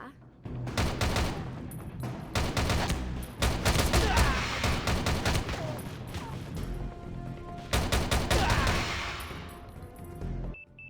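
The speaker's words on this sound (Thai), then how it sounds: "เล็งด้วยมือซ้ายยิงปืนด้วยมือขวา" Rapid bursts of gunfire in the shooter game HEADSHOT crackle in long volleys, loud and close, broken by short pauses and an occasional blast.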